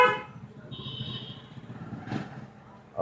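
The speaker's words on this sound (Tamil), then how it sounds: "ஒரு முறை ஹாரன்." A single short car horn honk sounds during a driving lesson on the road, a clear beep just under a second long near the start, over low steady engine and road noise.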